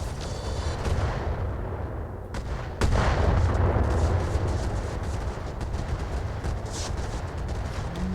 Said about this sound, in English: That's quite a bit of missiles